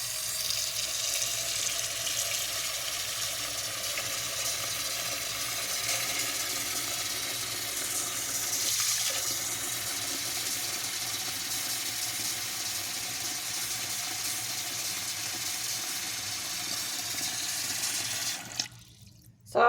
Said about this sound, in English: we're going to fill this with cold water to allow them to expand